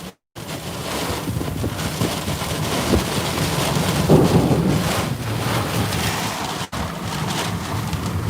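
Heavy rain and wind from a supercell thunderstorm roar in a continuous dense wash around a truck, loud and close, with a brief dropout near the end and no talk.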